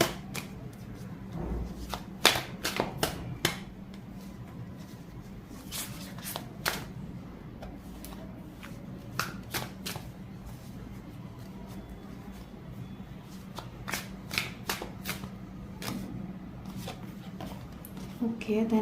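Tarot cards are shuffled and handled in a series of crisp riffling bursts and soft slaps spread across the stretch, while someone talks quietly over them.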